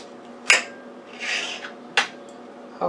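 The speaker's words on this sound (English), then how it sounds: "Now I'm going to cut it in half again." A knife slices through a squash on a cutting board, giving two sharp crisp cuts with a softer rasping scrape between them, close and clear with no talking.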